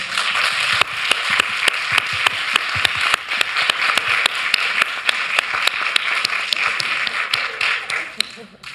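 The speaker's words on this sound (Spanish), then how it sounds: "un aplauso para ellas, por favor" An audience at a Primavera Pro 2019 panel talk applauds, with a dense wash of clapping and sharp individual claps standing out throughout. Voices can be heard under the applause.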